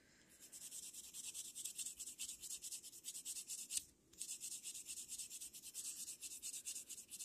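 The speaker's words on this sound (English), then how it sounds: "if you feel like your tip is just too thick and you need to take some off with the file" A nail file rubs back and forth over a dip powder French tip, smoothing it in a steady rapid rhythm of soft, close scratchy strokes, pausing briefly midway before resuming.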